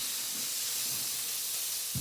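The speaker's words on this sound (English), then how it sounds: "Spread out the beef into your wok or into your frying pan." Beef spread out in a hot wok for a stir fry, a steady loud hiss of sizzling fat and steam, continuous and close with no voices.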